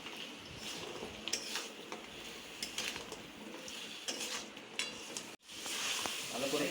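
Mutton being stir-fried for a village-style Bengali kosha curry in a pot, with a spoon repeatedly scraping and clattering against the metal over a steady low sizzle, fairly faint and continuous.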